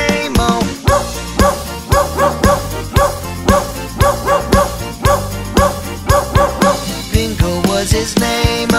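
Barks of a dog set into a children's farm song, many quick rhythmic woofs repeating in time with the music and singing, loud and up front throughout.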